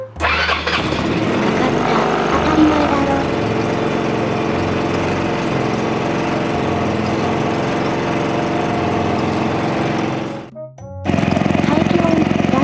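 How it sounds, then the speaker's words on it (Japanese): A Yamaha Majesty 125 FI scooter engine cranks and catches, then idles with a steady, rapid chugging close by; a voice speaks briefly over it, and the engine cuts out and restarts near the end. "さて、エンジン始動。"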